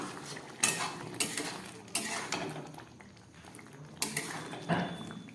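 Metal lid lifted off a cooking pot of chickpea curry on a gas stove, several sharp clanks and scrapes of metal on metal, close and moderately loud, with quieter rattles between.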